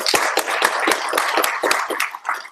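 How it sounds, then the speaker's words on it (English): A small group of people clapping on a Groovy and Grails podcast, a few distinct, close handclaps in an uneven, light patter with no talk over it. "those applause are for Graham"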